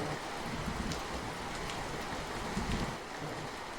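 Heavy rain pours steadily as a dense, continuous hiss with scattered patter of drops, loud and unbroken throughout, with no voices, setting a spooky scene outside a crumbling old haveli at night.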